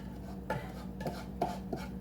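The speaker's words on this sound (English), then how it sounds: "I'm now getting a bowl out to put the ganache in" A bowl is handled in a home kitchen: several quiet clinks and knocks of dishware in an irregular rhythm, close to the listener, with no talking.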